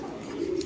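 A racing pigeon at a farm gives a single short, low coo close by, over faint background noise.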